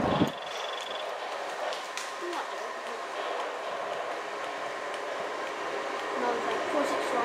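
A Class 465 Networker electric train at Canterbury East rumbles steadily along the track, with a high whine at the start and a continuous rolling noise throughout.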